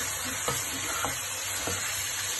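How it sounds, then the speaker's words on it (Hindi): Chicken pieces for a boneless karahi fry in a pan with a steady broadband sizzle, broken by three sharp scraping stirs of a spoon at even intervals; no voices. "चिकन डाल के आपने थोड़ी देर उसके लिए इसे फ्राई करते हैं"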